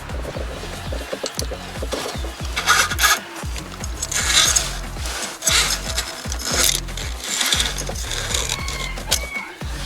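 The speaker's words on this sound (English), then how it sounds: "pull this old cable on out of there" An old, broken, greasy throttle cable is pulled out of its carburetor linkage, giving a close, steady run of rhythmic scraping and rubbing strokes that continue for about ten seconds without talk.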